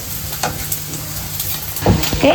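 Pasta with garlic, capsicum and onion is stirred in a pan, giving a continuous close sizzle with scraping and clattering stirring sounds that grow louder near the end.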